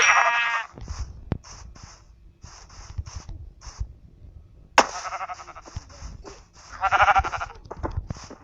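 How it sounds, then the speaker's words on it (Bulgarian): Sheep in Minecraft bleat repeatedly and up close, with long wavering baas at the start and end and a string of short clicky game noises in between. "Овца!"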